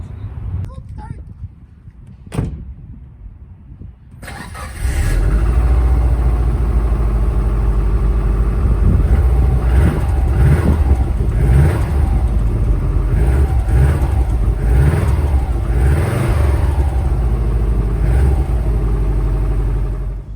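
A cheap used Subaru WRX, blue smoke puffing from its exhaust at startup, cranks and fires up, then a loud steady engine drone takes over as the car pulls away. A person speaks over the engine noise.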